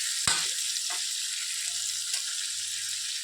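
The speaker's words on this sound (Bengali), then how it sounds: "তেলটা গরম হয়ে গেছে, এবার আমরা এই যে মাছটা দিয়ে দেব।" Bele fish goes into hot oil for a spicy East Bengal-style curry, a sudden thump then a steady bright sizzle that carries on evenly, close up with no voices.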